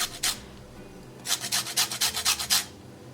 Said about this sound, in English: Grate the lime. I'm gonna need the zest.